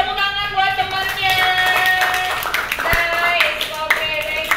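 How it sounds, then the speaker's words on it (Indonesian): A classroom of students applauding a classmate, a dense burst of clapping from many hands that carries on steadily throughout, with voices talking over it. "tepuk tangan buat temannya"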